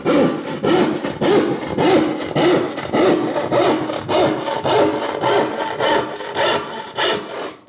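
Hand saw cutting hard beech plywood held in a vise, with a steady rhythm of loud, close rasping strokes, about two per second, running continuously without speech.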